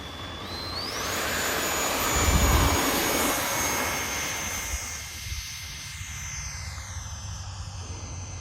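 A Freewing F-14 model jet with twin 80mm electric ducted fans roars at full power on takeoff. It gives a loud, steady whoosh with a rising high whine, then thins gradually as the plane climbs away outdoors.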